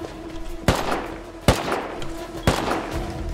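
Gunfire in the survival game Rust: three sharp, loud single shots spaced about a second apart, each with a short echoing tail over a steady low background hum.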